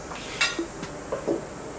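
Metal utensil scraping and clinking against a cooking pot while stirring sinigang pork stew with ginger and fish sauce, a few light irregular knocks over a soft simmering background.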